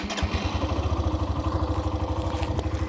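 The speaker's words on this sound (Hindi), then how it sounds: "एक बार इसका एग्जॉस्ट नोट भी आपको सुनाता हूँ" A 2024 Hero Xtreme 125R motorcycle with a 125 cc engine idles close by, its exhaust putting out a quiet, even, rapid thumping pulse with no talking.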